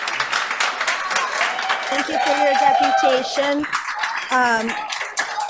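Audience clapping breaks out at a city committee meeting during public deputations, a scattered burst of applause mixed with a speaker's voice and clinking sounds nearby.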